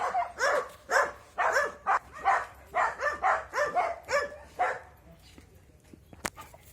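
Several excited dogs bark in a rapid, steady run of loud, close yips and barks at a country house, then fall quiet apart from faint background noise and one sharp click.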